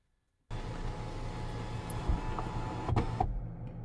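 Motorized sunroof of a Chery Tiggo Cross Premium closing on voice command inside the car: a steady electric whir with faint mechanical ticks and clicks, starting abruptly and running evenly with no talking.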